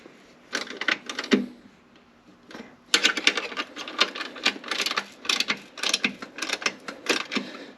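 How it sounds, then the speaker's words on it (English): A 10 mm ratchet tightens the upper strut bolts on a 2006 Mazda 3, making quick bursts of close, crisp clicking with short pauses between strokes. "we need to take our 10 millimeter and actually tighten all of our upper strut bolts"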